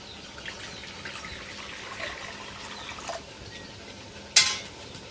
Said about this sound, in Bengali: কড়াতে জল দিয়ে দেব।